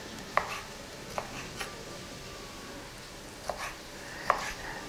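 A knife cuts food into thin, long julienne strips on a board for beef stroganoff, with a few isolated, sparse chops that sound quiet and close. No one speaks.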